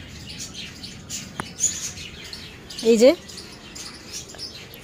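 Cockatiels in a home aviary give short, bright chirps and tweets, scattered and fairly close, while a person says a few words partway through.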